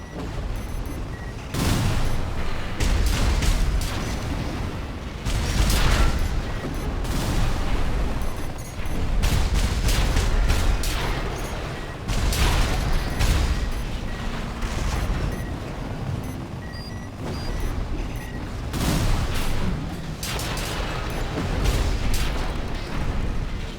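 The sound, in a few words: missiles fired and exploding in the video game Armored Core 6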